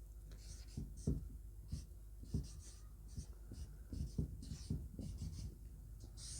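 Notes being written by hand during a Class 10 physics lesson on reflection of light, a close, soft scratching of pen strokes in short, irregular bursts, with a quiet voice murmuring now and then underneath.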